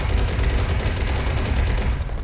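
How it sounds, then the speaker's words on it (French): Continuous rapid cannon fire in a video game, a dense rumbling barrage of overlapping loud shots with no break throughout. "Les canons ont l'air de faire le travail quand même, ça tire bien."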